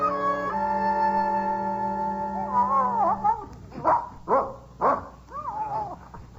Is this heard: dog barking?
yes